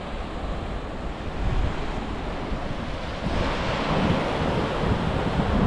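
Surf rolling in at Hac Sa Black Sand Beach in Coloane, Macau, a steady, full roar of breaking waves with wind buffeting the microphone, swelling slightly partway through and continuing without pause.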